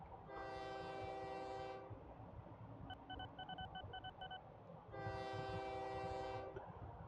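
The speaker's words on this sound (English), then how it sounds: "There's one of our trains." A train rumbles steadily past, sounding two long, loud horn blasts separated by a few seconds of rolling rail noise and a faint repeated electronic beeping, like a crossing signal.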